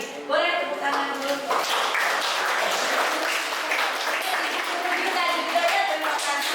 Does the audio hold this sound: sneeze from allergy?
no